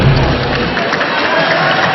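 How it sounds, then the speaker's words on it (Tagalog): A crowd at a volleyball match between Vietnam and Philippine Army roars with a dense, loud wash of cheering that carries steadily through the moment. "The crowd cheering on Rachel."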